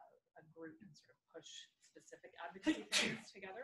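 A single sharp sneeze bursts out partway through a panel discussion, loud and brief amid continuous talking.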